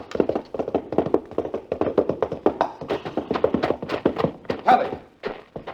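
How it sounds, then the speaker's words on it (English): A horse gallops and stumbles in a radio drama, a steady rapid clatter of hooves under spoken voices, close and busy throughout, with a heavier thump near the end. "The horse stumbled over that lower bar and threw her."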